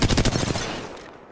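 A fast, loud burst of automatic gunfire in the battle royale game Apex Legends, its rapid shots rattling close at first before tailing off into a fading echo within about a second.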